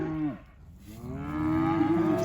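Cattle mooing at night on a farm property: a nearby cow's drawn-out moo fades out, then another long, loud moo rises and holds to the end, with no talk.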